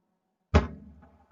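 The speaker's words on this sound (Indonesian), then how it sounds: "Contohnya adalah meja dipukul" A single sharp thump from a fist striking a tabletop, loud and close, with a short low resonance that dies away within about half a second in an otherwise quiet room.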